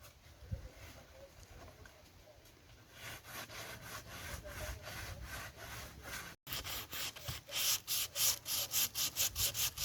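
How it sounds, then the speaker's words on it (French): A surface is scrubbed by hand during camper van renovation, with soft rubbing at first that grows into loud, rhythmic back-and-forth strokes close by. "Allez, on frotte, on frotte."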